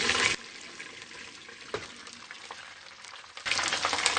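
Chicken frying in a pan for a Pakistani korma, with a loud broadband sizzle at the start and again at the end and a quieter hiss between, plus a faint clink or two. No talk.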